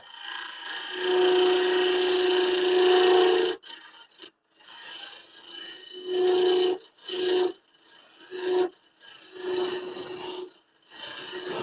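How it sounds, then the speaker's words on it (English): Woodturning tool shear scraping face-grain wood spinning on a lathe, a loud steady raspy scrape with a tonal hum, then broken into several shorter passes separated by brief pauses. "Pick up the cut and come out and shear scrape to the left."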